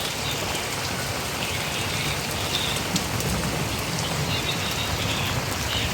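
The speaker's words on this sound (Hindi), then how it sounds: "इतनी तेज़ बारिश हो रही है अभी भी।" Heavy rain pours down steadily in Lahore, a dense hiss of drops pattering on surfaces with no pauses.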